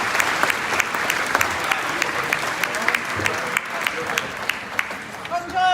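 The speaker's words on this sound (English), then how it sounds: "How about a big round of applause for our MPs and our MPPs?" Loud, steady applause from a crowd at an Italian Heritage Month celebration in Vaughan, with dense continuous clapping and a few sharper individual claps standing out.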